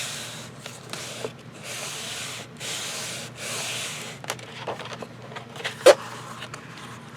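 A folded paper hinge for a book binding is burnished by hand, giving soft, close rubbing and scraping strokes in several bursts, with a few sharper taps and crinkles near the end, all fairly quiet.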